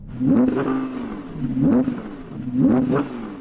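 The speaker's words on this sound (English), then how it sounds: "Let's see what that R8 sounds like. It's going to sound better in a naturally aspirated V10." An Audi R8's naturally aspirated V10 engine is blipped three times in quick succession, each rev rising sharply and falling back, close and loud with no talk.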